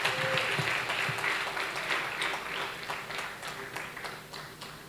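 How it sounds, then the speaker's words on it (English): A school debate audience at a national championship grand final applauds the finalists as they walk to the stage, a steady wash of many hands clapping at moderate volume that carries on without pause. "Let's give them a round of applause as they come."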